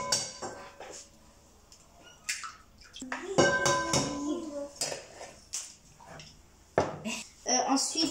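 Eggs and sugar being mixed in a bowl for a chocolate cake, with clinks and scraping of a utensil against the bowl in irregular bursts while people talk in French.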